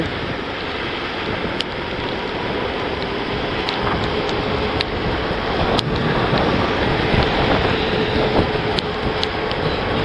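Heavy rain roars steadily against a moving vehicle, a loud, constant wash of noise with occasional sharper ticks and spatters, driving an RKS RK3 motorcycle in Ankara.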